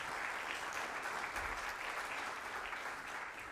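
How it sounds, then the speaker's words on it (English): Applause from the audience at the 2025 FutureSolvers Cultivation Challenge honors the business track teams, a sustained, even clatter of many hands heard from a moderate distance with no break. "Let's give another round of applause to our business track"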